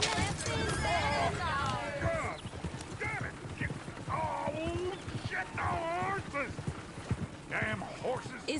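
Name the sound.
horses neighing in the video game Red Dead Redemption 2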